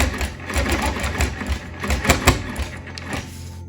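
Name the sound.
sewing machine stitching quilt with ruler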